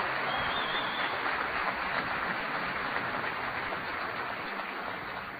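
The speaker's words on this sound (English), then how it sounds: "Please give your outstanding team a big round of applause." Applause from a crowd of troops fills the space steadily, a dense continuous clatter of many hands clapping at once that holds at an even level throughout, with no voices standing out.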